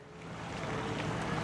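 Waves on the main channel of the Tennessee River at sunset, a steady close washing and lapping rush with a little wind, gradually swelling over a short stretch with no talk.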